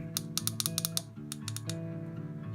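Buttons on an Exgreem fidget cube are clicked in quick, uneven bursts of sharp, close clicks, with no talking.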